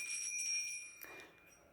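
A short bell sound effect rings out with a bright, sustained metallic tone, fading quickly, then a soft brief knock follows before the clip ends quietly.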